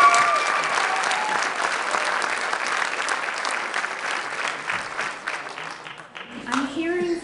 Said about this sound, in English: please keep your applause and cheers to a minimum, no matter what side you're on